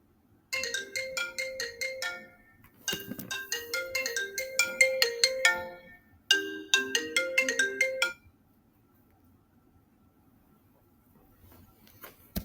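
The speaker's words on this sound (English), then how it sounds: "That was my husband's phone." A mobile phone plays a bright melodic ringtone in three bursts of quick chiming notes, fairly close and clear, then falls silent.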